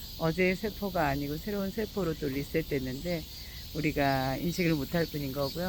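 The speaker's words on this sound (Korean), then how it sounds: "매미소리 들리시죠?" Cicadas drone steadily in summer, a continuous high buzzing through the whole stretch while someone talks at length over it.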